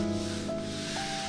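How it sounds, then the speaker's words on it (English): Hand sanding on a stripped car door during bodywork on a Z28, a brief continuous close rubbing scrape. "I'll keep sanding on it"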